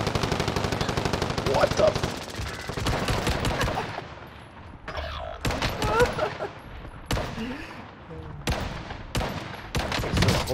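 Assault rifle fire rings out in rapid bursts in the Warzone Caldera video game, loud, close and cut by short pauses, while a player speaks briefly over the shooting.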